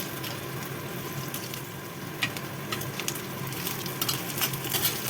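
Bitter gourd frying in a pan, with a steady soft sizzle and occasional faint clicks of a utensil, moderately quiet and close, with no voices.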